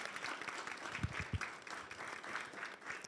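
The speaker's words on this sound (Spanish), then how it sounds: "Así que les pido un aplauso a nuestras panelistas de primera mesa." An audience gives a round of applause to panelists at a gender-and-technology journal launch, a steady patter of hand claps throughout, somewhat distant and fairly quiet, no voices over it.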